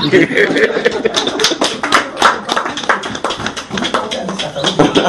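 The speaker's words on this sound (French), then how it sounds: "Applaudissons pour elle alors." A church congregation in Douala, Japoma, claps in a loose, uneven burst of applause with scattered individual claps, while voices and a little laughter carry through the room.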